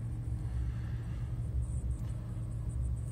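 A car pulling away from a stop at a traffic light, its low engine rumble steady and close, holding a droning tone as it begins moving, with no talk.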